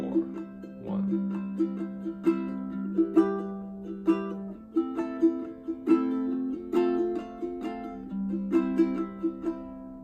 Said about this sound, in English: We're gonna pluck on the 1 and the 3, okay? Sounds like this.